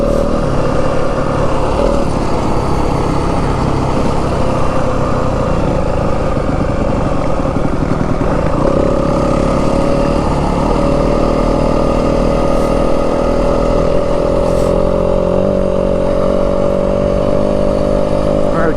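A 2025 Yamaha WR250F dirt bike carries its rider into the Santa Rita Mountains, the engine loud and continuous up close, holding a steady drone with small throttle shifts along the way.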